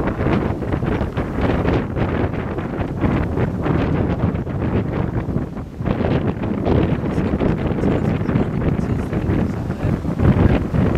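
Strong gusting wind buffets the microphone aboard a sailboat off Brest, France, with gusts near 26 knots, a loud continuous roar with rushing surges and boat noise throughout, no talking.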